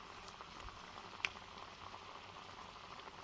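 Anarsa sweets deep-frying in oil, a quiet, steady bubbling sizzle with faint scattered pops throughout.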